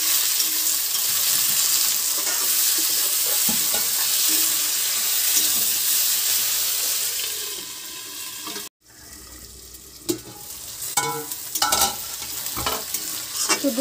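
Pea peels and tomatoes cook in a pan, giving a steady close sizzle with stirring for several seconds; after a brief break comes a different stretch of running tap water and scattered knocks and clatter, with no talk.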